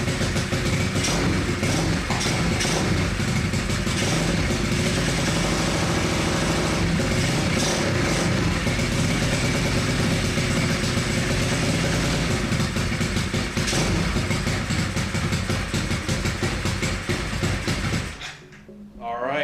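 A Kawasaki KLX110 dirt bike engine fitted with a big bore kit, choke on and carburetor unadjusted, runs loud and close at a steady idle for about 18 seconds before cutting off abruptly.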